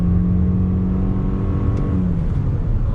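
A 2021 Toyota RAV4 Prime plug-in hybrid accelerating in hybrid mode on throttle, its engine note droning steadily from inside the cabin with rising whir, then easing off toward the end.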